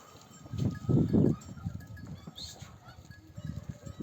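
A herd of heavily pregnant farm goats arrives, with loud bleating bursts early on and scattered clatter and shuffling, some of it resembling bells, continuing through the rest.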